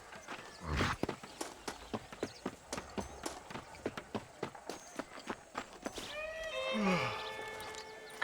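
Horse hooves clip-clop in Red Dead Redemption, a run of sharp, evenly spaced hoofbeats close by, followed by a horse's whinny near the end.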